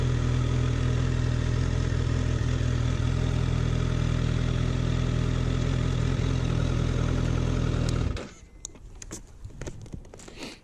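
A Honda CBR1000RR Fireblade sport motorcycle with about 200 horsepower idles close up with a deep, steady, throbbing rumble for eight seconds before the engine is cut, leaving faint clicks and ticks.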